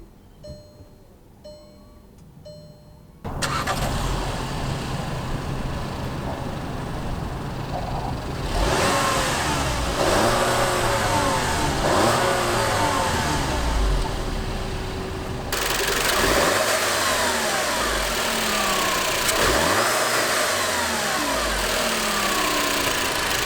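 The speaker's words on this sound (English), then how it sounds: "So I'm going to start up this engine for you here, and I want you to hear what a nice turbocharged engine sounds like." A 2016 Volkswagen Jetta's turbocharged 1.4-liter engine cranks and catches after a few seconds of quiet, then settles into a loud, close idle punctuated by repeated revs that rise and fall.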